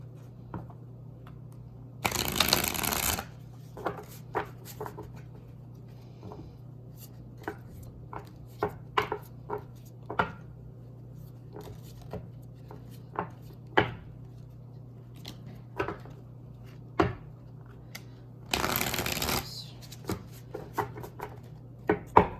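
Tarot and oracle cards being shuffled, two loud bursts of riffling near the start and near the end, with scattered soft taps and card handling in between over a steady low hum.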